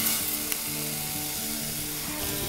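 Onion paste fries in a pan for a sprouts curry with a steady, loud, close sizzle and faint stirring clatter, with no voices.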